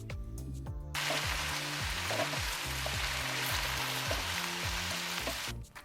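Brussels sprouts fry in a hot pan with a loud, steady sizzle that kicks in after a second, with no talk.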